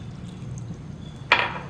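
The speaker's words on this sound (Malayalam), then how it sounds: "അപ്പോൾ അതിലേക്ക് നമ്മൾ ഒരു കപ്പ് ആദ്യം ചൂടുവെള്ളം ഒഴിക്കുക." Hot water, about a cup, is poured into puttu flour in a short splash near the end, after a quiet stretch with faint background hum.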